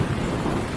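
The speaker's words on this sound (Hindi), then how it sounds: "ऊपर से बारिश भी तेज हो गई।" A brief, steady burst of heavy rain mixed with low thunder rumble forms an unbroken wash of noise with no voices.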